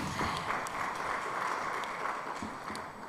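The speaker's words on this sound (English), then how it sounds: "Another round of applause for the panelists." An audience at a regional cyber drill conference applauds the panelists, a steady, fairly quiet wash of many hands clapping throughout, with no speech on top.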